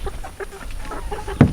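Soft, scattered clucks from chickens close by, ending in one louder squawk.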